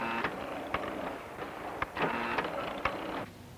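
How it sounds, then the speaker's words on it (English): Pie-making machines in a factory rolling, filling, folding and pinching dough, heard as a run of rhythmic mechanical clunks and whirring thumps at moderate volume, with no talk. "But different machines do each job. Rolling, filling, folding, pinching."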